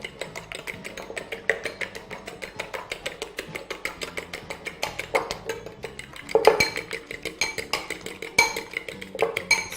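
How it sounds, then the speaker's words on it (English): A whisk beats quickly against a bowl, mixing a spiced vegetable mixture for a chapati wrap, giving rapid, rhythmic clinking taps with a slightly louder flurry partway through. "So you basically want to whisk your mixture until everything is well incorporated."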